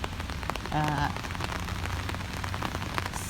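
Rain falling in a garden in Finland, a dense steady patter of drops with sharper nearby hits, plus a brief tonal sound early on and faint voices in the background.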